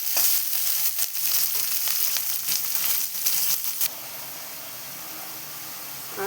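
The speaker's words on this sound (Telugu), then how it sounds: "ఆనియన్ మంచిగా" Onions frying in a pan with dried red chillies for a leafy greens stir-fry crackle in a loud, dense sizzle with stirring bursts, then settle into a flatter, quieter hiss.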